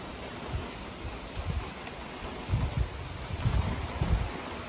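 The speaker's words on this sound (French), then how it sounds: "Voilà, des rafales." Moderate wind gusts roll through leafy trees in June, a low rumbling rush that swells and fades in several surges over steady background noise.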